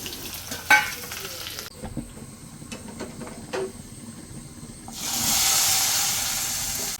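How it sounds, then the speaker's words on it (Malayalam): Mustard seeds fry in hot oil for sambar, first with soft clinks and a quiet kitchen background, then a loud, steady hiss of sizzling that rises near the end and continues. "ഇനി അതിനകത്ത് കടുവും കൂടെ വറുത്തിട്ടാൽ മതി."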